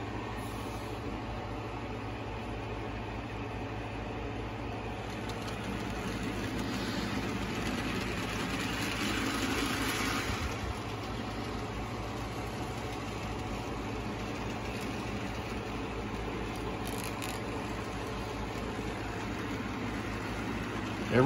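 A TT scale model train runs quietly on its layout, giving a low, even mechanical hum and faint rail rumble that hold steady throughout, with no talking.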